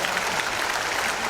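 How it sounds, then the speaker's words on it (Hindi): A crowd at an International Yoga Day celebrity event claps in a brief, dense, loud burst of applause with no speech over it. "एक बार जोरदार तालियां हो जाए"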